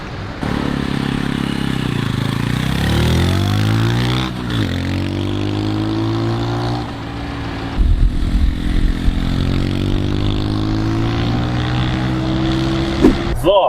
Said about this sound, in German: Der Gerd ist gerade schon eine Runde mit dem ersten Fahrzeug gefahren.